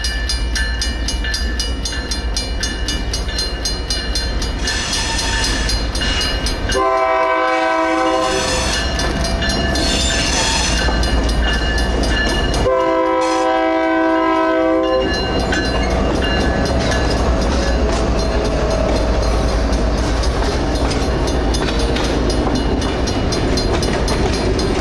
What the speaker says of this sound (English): Iowa Interstate runs a transfer train to the CP.